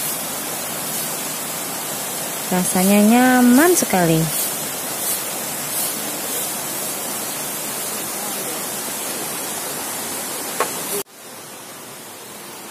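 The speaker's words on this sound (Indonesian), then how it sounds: "Ditambah dengan suara dari sungai" A river rushes beside a Balinese melukat purification site, a constant broad hiss of flowing water heard close by. A person speaks briefly over it, and the water noise drops abruptly near the end.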